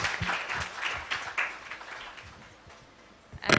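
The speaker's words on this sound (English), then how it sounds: "Huge round of applause for all of us." A conference audience breaks into applause for a technology and gender equality panel, a steady patter of many hands that eases off mid-clip, then swells loudly again right at the end.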